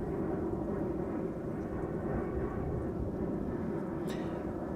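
A KLM Boeing 737 taking off from the Kaagbaan at Amsterdam Schiphol roars overhead as a broad, steady, rumbling jet noise, loud and sustained throughout.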